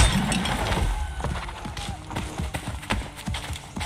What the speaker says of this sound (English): Get on that horse.